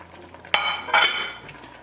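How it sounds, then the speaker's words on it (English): White chicken chili being stirred in a pot as it comes to a simmer, giving two short scraping, clinking stir strokes close by, with no talk. "Stir that up, and then let this come to a simmer."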